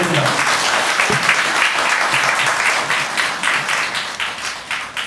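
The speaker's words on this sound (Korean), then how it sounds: "박수 부탁드립니다." An audience at a party members' convention in Ulsan applauds steadily, a dense, even wash of many hands clapping close by for several seconds.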